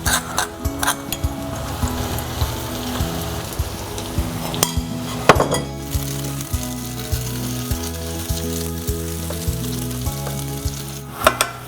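Slices of bread frying in caramelized sugar in a pan for French toast give a steady, close sizzle with occasional stirring clinks and scrapes, no talking.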